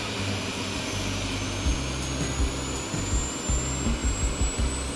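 Jet engines running steadily after auto start on an airliner in the X-Plane 12 flight simulator, a continuous loud whine and roar with a slowly rising high tone and a low rumble that pulses in and out.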